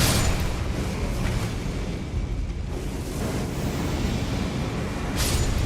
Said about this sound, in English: Try and bait them into exploding.